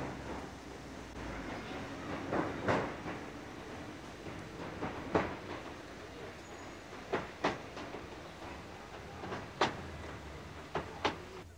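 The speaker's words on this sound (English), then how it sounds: "we board one of the Wessex Express trains, new electric units built especially for the line" A Wessex Express electric multiple unit, newly built for the Waterloo–Bournemouth–Weymouth line, runs along the rails with a steady low rumble and intermittent sharp clicks and clacks over joints, heard from inside the carriage.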